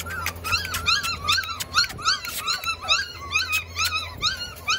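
A puppy whimpering and yelping in a rapid, continuous string of high cries while struggling to climb up, close and loud, with no talk.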